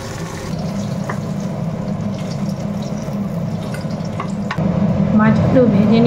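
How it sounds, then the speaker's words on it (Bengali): Tomato drops into hot tempering oil in a home kitchen, with a loud, close, steady frying hiss and stirring noises, and a short whistling tone near the end. "এই যে টমেটোটা এবার ফোড়ন দেবো"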